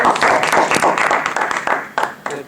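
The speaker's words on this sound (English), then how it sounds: "Let's give them another round of applause." A live audience gives a round of applause after a presentation on storage and distribution process improvement, loud close clapping that thins into scattered claps near the end.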